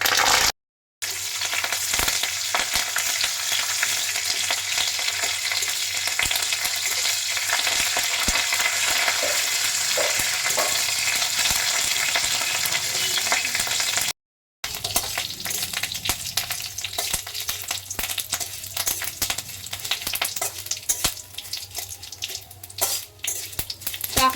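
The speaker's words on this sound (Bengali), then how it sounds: "ফোড়নে দিয়ে দিচ্ছি কালো সর্ষে আর দিয়ে দিচ্ছি আমি কারি পাতা" Black mustard seeds and curry leaves sizzle steadily in about two spoons of refined oil, a loud continuous frying crackle with spattering pops that runs nearly the whole time, broken only by a brief gap midway.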